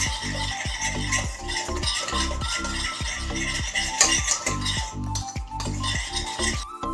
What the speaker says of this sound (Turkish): 10-20 saniye karıştırıyoruz ki topaklanmasın.